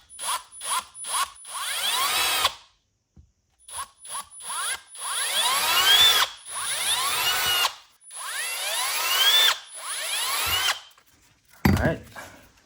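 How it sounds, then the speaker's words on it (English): A power drill fitted with a 3/16 drill bit, boring a hole for a billet dead pedal on a 1991–2005 Acura NSX: close, loud bursts of whining motor, several short pulls and then longer sustained runs separated by pauses. "I'm going to go ahead and use a 3/16 drill bit."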